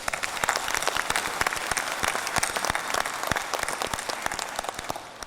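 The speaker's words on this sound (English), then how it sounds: "Let's give him a round of applause." Steady, enthusiastic applause from a convention audience at the 2017 Global Peace Convention in Manila, many hands clapping densely and continuously throughout without pause.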